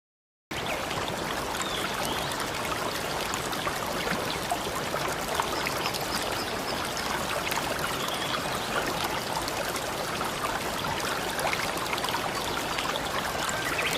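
A river stream flows in an even, continuous rush and trickle of water, nearby and steady for the whole stretch after a brief silent start, with no talking.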